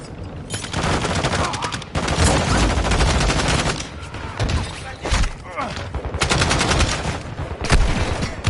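Sustained automatic gunfire in the shooter Modern Warfare 2 (Shadow Siege), dense bursts of rapid shots with heavy thuds running through the whole stretch, loud and close with brief lulls between volleys.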